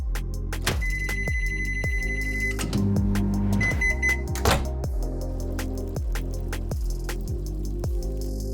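A microwave oven hums steadily with regular ticking pulses while heating a soft coaster dough mixture, with a few short electronic beeps near the start.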